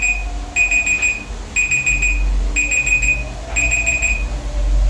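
A timer alarm beeps in four repeated bursts of rapid high-pitched tones, evenly spaced, over a steady low background hum.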